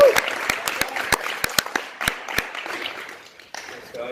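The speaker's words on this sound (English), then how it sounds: "Give him a round of applause." Audience applause at a startup pitching bootcamp in Melbourne, a brief burst of sharp, scattered claps from a modest crowd that thins out and fades within a few seconds.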